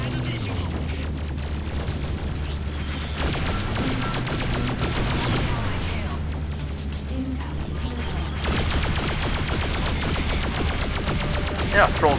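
Enemy ships firing rapid laser and gun volleys during a space dogfight in the Freelancer video game, a dense, continuous barrage of sharp blasts over engine drone, with someone occasionally talking.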